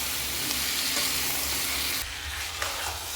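Eggplant sizzles steadily in a pan with green chili and tomato, a continuous close frying hiss with faint stirring scrapes that drops slightly in level partway through.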